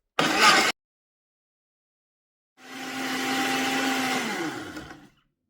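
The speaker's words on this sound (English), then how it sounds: "We're gonna turn that on and we're gonna press smoothie for this one and see how it does." A Ganiza smoothie blender running on its smoothie setting: a brief loud whirring burst, a pause of silence, then a longer steady motor whine with a tonal hum that winds down at the end.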